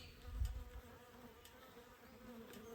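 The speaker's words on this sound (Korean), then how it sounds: "이 통은 자리벌이 들은 것 같은데 양봉이 잔뜩 왔네요" Honeybees swarm around a wooden hive box set out on a mountainside, a faint, steady insect drone with a few low rumbles and no voices.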